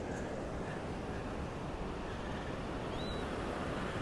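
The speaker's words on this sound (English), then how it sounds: "you can hear the wind in the ocean" Steady broadband wind and ocean surf roar continuously near the microphone while surfing at the Surfers Paradise dredger, with no voices and a faint high whistle briefly rising near the end.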